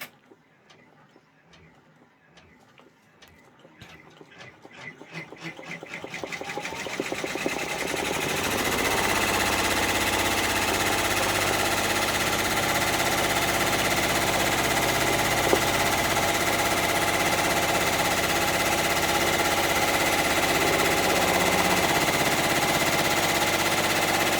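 An embroidery machine sews a final outline stitch: quiet rapid ticking builds over several seconds into a loud, steady mechanical whir that carries on without a break.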